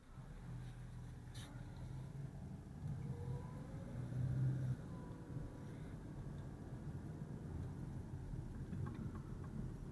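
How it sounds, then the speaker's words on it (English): A white car drives by, a steady road and engine rumble that swells louder around the middle before settling back to a continuous drone. "White car."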